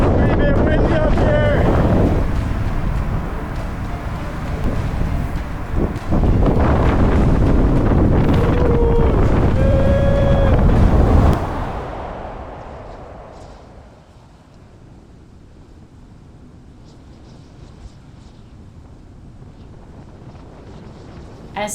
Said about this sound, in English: That's it, it's pretty bit windy up here.